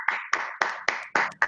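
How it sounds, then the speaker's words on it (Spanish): Applause closes an online lecture with a handful of distinct claps in a loose rhythm, close and moderately loud, without talk. "Cerramos con un aplauso."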